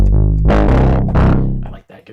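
A distorted synthesizer plays a few short gritty notes, loud and buzzy, with a brief quieter tail at the end.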